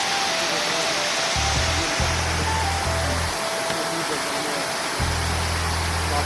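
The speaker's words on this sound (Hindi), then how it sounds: "वो एक बार हम वो झरना दिखा दीजिए कैमरामैन ज़रा" A waterfall in a Madhya Pradesh forest sends out a continuous, close rushing roar. A voice cuts in and out over it.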